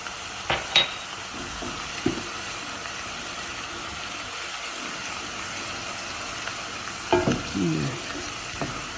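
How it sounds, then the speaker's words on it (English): Garlic cooking in a pan for chicken parmigiana produces a soft, faint sizzle beneath a few clinks and stirring knocks of a utensil against the pan, scattered near the start and again toward the end. "the garlic is cooking"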